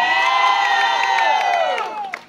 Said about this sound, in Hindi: let's give a big round of applause for the angels of today